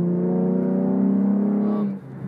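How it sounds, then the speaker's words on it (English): A truck fishtailing on a slippery dirt road, its engine holding a steady, close droning hum for about two seconds before easing off abruptly. "that truck just fishtailed a little bit"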